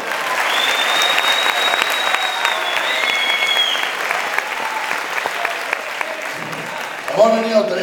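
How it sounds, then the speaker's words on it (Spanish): Festival audience applause at the closing night of a horror film week, steady clapping from a crowd, with a voice briefly breaking in over it near the end. "un aplauso para ellos"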